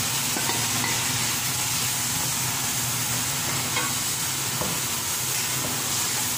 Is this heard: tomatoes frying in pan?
yes